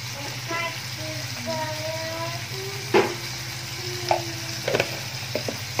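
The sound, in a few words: tomatoes frying and being stirred with turmeric and salt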